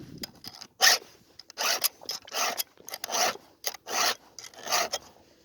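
Hand file sharpening a chainsaw chain outdoors, a run of rasping metal strokes in a steady back-and-forth rhythm, close and moderately loud with short quiet gaps between strokes.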